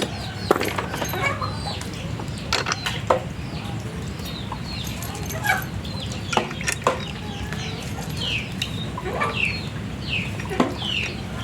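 Chickens cluck repeatedly at moderate distance, short sharp calls scattered over a steady background hum.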